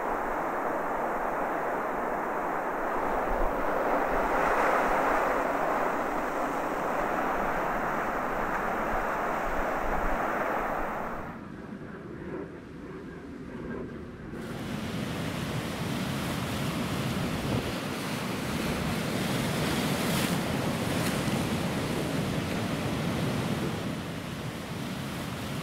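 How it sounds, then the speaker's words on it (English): Steady roaring surf crashing and churning close by as heavy waves hammer on sea walls, a continuous wash with a brief quieter lull midway, no voices. "The waves really hammered on the sea walls, but nothing penetrated to the pontoons."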